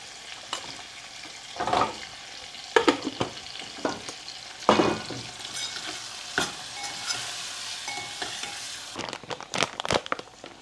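Salted masala frying in a pan for a desi eggplant olo, with a spoon stirring it in repeated scraping strokes over a steady sizzle. No voices are heard.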